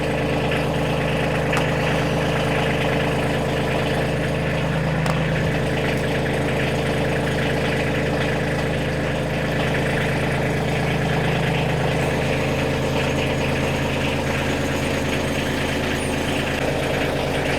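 A diesel tractor engine idles steadily while warming up in cold weather, a continuous close, loud mechanical rumble with an even throb and no talking.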